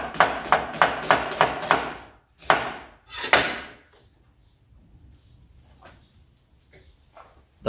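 Pickled cucumbers are cut into quarters with a knife on a board, giving a quick run of about six crisp, evenly spaced chops and then a few more strikes, close and loud, before fading to quiet handling noises.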